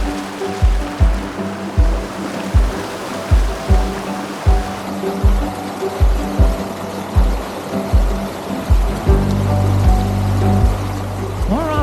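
Rushing creek water in Little Santa Anita Canyon, a steady loud roar with surging pulses under a repeating low mechanical thump, no talk.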